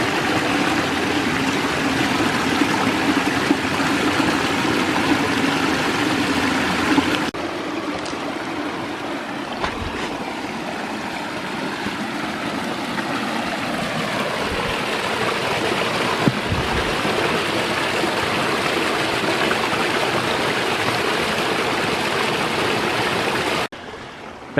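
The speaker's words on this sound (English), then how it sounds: "On kind of the main channel of the creek here." Creek water in a forest in Bankhead National Forest, Alabama, runs steadily over small cascades on the main channel, a constant close rushing and splashing with a brief quieter stretch partway through and no voices.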